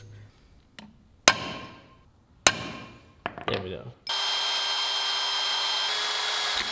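A few sharp taps and clanks, then a power drill whines steadily for several seconds nearby, drilling holes into a Corvette's car body; a voice speaks briefly before the drilling.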